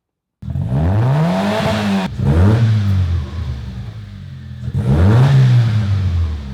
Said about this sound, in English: I want to rev it one more time.